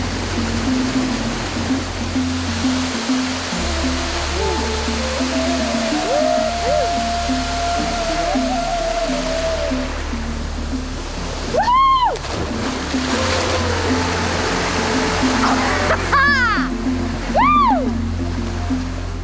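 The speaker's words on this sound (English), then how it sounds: "now that's what I call a waterfall" Steady broadband rush of a jungle waterfall near an Embera village in Panama, a 10-minute hike and dugout canoe ride away, with people talking and exclaiming over the constant roar.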